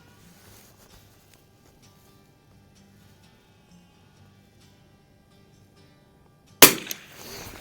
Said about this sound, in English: I'll shoot an extra one